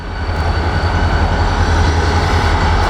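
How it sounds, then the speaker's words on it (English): RJ Corman SD40-2 diesel locomotives rumble past in a steady, loud, continuous roar of engines and rolling rail cars, with no talking over it. "here's the RJ Corman locomotives now"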